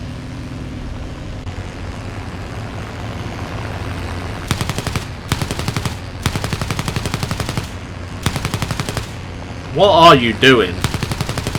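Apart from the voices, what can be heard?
machine gun fire from enemy aircraft in War Thunder video game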